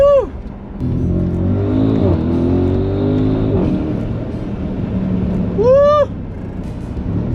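An Audi SQ7 engine pulls hard and loud under acceleration, then drops through a downshift, the revs sweeping between gears; a person whoops with excitement at the start and again near the end.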